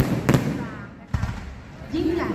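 Two sharp, booming explosions a second apart, like fireworks going off, with people talking in the background.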